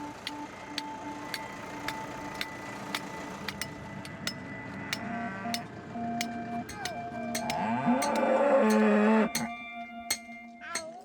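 Cattle on an organic farm moo in a low drawn-out call that swells louder near the end, over steady background ambience with faint ticking clicks.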